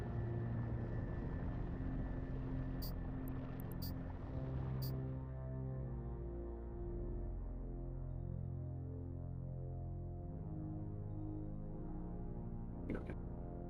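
A spaceship engine with afterburner in a video game gives a steady, deep droning hum with a layered throbbing low end, holding on alone for the whole stretch, with a few brief sharp clicks early on and near the end.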